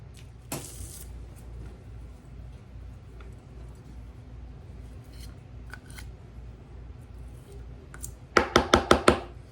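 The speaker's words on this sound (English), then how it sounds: "I'm just going to keep cutting from the end here. Fresh green onions." Knife slicing through freshly pulled green onions on a cutting board, a quiet isolated chop early, then a quick run of five crisp cuts near the end over faint room hum.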